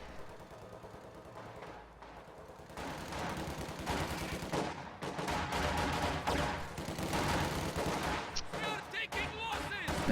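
Gunfire bursts during a strategy game battle, rapid rattling volleys that build in intensity and continue under a commentator's voice.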